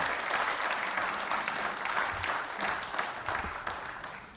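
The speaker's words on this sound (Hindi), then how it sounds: "तालियां इस जानकारी के लिए बजा सकते हैं आप।" Audience applause at a Hindi quiz show on the Indian legal system, a continuous wash of clapping from a large crowd, moderately loud and unbroken.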